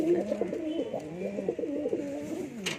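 Pigeons coo repeatedly in soft, throaty warbles, close by, several overlapping calls with no talking.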